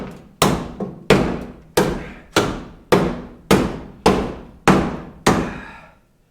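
A steel receiver hitch bashed against a dented panel, nine heavy metallic thuds at a steady, roughly even pace, each ringing briefly before the next blow, close and loud with no speech.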